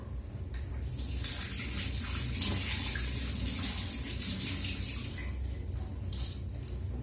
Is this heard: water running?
yes